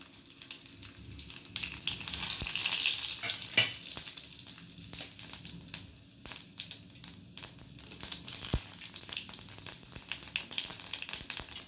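Cumin seeds sizzle and crackle in hot oil, a soft steady frying hiss with scattered pops and an occasional stir, fairly quiet and without talking.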